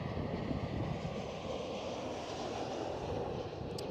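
A KLM Boeing 737-700 at Schiphol airport gives off a steady, broad engine roar that holds at an even level from start to end, with no other sounds over it.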